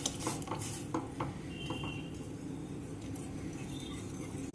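A spoon stirs moong dal batter in a metal pot, clinking and scraping against the sides in quick strokes at first, then a softer steady stir; no one speaks.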